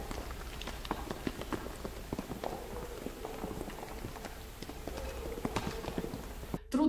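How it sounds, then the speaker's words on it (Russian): Raindrops falling at a cemetery, heard as a dense, steady patter of close irregular taps with soft footstep-like thuds mixed in, continuing throughout until a brief muffled bump at the very end. "Сначала звук похож на обычные дождевые капли"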